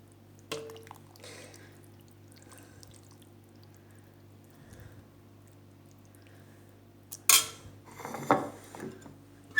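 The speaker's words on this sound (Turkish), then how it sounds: "bol kepçe yemeğimizi servis tabağına alıyorum sıcak sıcak. Şöyle biraz da suyundan ekliyorum" A ladle scoops chickpea and black cabbage stew onto a serving plate, the broth poured over it: a quiet stretch, then a few sharp metal clinks and soft liquid drips near the end.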